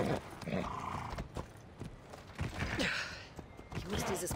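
A horse in Assassin's Creed Odyssey gives breathy snorts and soft, uneven hoof clops, fairly close and quiet, with intermittent bursts across a few seconds.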